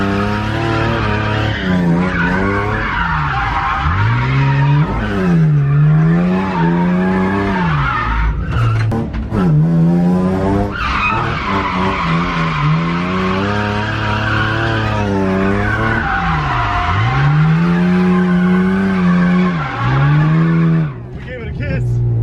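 BMW E36 drift car sliding on the street with the e-brake pulled, tires squealing in long repeated skids while the engine wails up and down, loud and close, with a voice talking over it.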